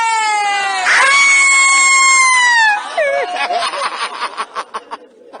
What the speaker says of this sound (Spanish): un grito como de Halloween, ¿no?